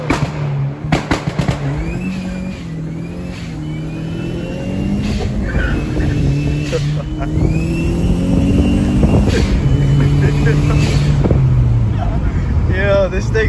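Mk4 Jetta 1.8T with a K04 turbo accelerating, its engine note climbing steadily and staying loud and close for the whole stretch, with wind buffeting and voices talking over it.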